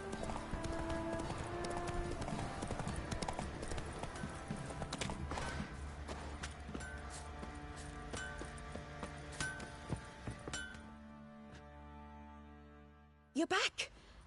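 Hooves of Geralt's horse Roach in The Witcher 3, steady clip-clop over game music and ambience with a voice speaking, fading into quiet before a short loud burst at the end.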